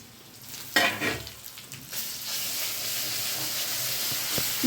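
Spices fry with onions in a hot pan while cooking fish momos, a loud sizzle erupting as they hit the oil and then settling into a steady hiss with occasional stirring clinks.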